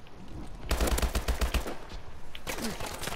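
Rapid bursts of automatic gunfire in Call of Duty: Advanced Warfare multiplayer, a dense close volley lasting about a second, then scattered lighter shots and game effects trailing off.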